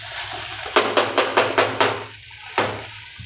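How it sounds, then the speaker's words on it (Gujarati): Stirring cooking sago pearls in a pot: a quick run of about six rhythmic scraping knocks of the spoon against the pot, then a pause and one more stroke, close and fairly loud. "સાબુદાણાને વાર ન લાગે ચડતા વચ્ચે વચ્ચે આમ હલાવતું રહેવાનું"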